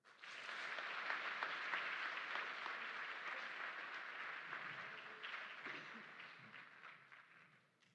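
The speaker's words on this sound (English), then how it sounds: "Please join me in a well-deserved round of applause for our instructors and drill sergeant of the cycle." A crowd at a military training graduation at Fort Sill applauds the instructors and drill sergeant, broad steady clapping that swells quickly, holds, and fades out near the end.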